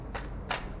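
Tarot cards shuffled by hand, giving two or three brief papery riffling bursts close by against a quiet background.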